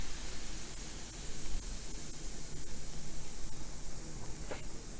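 Vinegar is poured over ice outdoors and fizzes with a faint, steady hiss like static, low and even throughout, with a brief brighter splash or crackle near the end.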